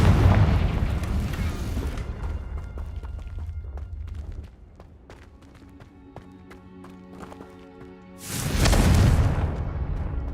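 In Hogwarts Legacy, the Confringo explosion spell detonates: a loud, roaring blast opens, fades into quieter clanking game ambience, then a second heavy burst erupts near the end.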